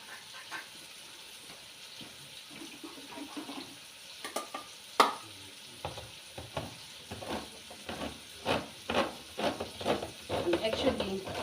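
Tomatoes hit a hot pan of chicken curry, starting as a soft hiss that builds into loud, crackling sizzles and stirring scrapes in the second half.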